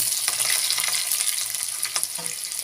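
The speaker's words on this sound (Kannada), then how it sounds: "ಎಣ್ಣೆ ಸಾಸಿವೆ ಎಲ್ಲ ಚಟಪಟ ಸೌಂಡ್ ಬರ್ತಾ ಇದೆ." Mustard seeds crackle and pop in hot oil for a sorakkai sambar tempering, a dense steady sizzle with scattered sharp spatters, close up and without talk.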